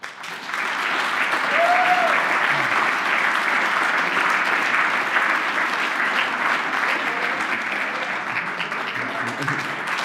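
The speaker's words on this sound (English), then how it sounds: "I think we should get someone a special applause" A conference audience at the 22C3 hacker congress breaks into sustained applause, a loud, dense wash of clapping that swells quickly and holds steady for several seconds.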